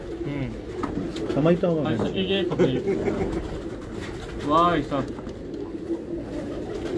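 Domestic pigeons coo in a fancier's loft in Karachi, with several rolling, throaty coos rising and falling close by while someone talks over them.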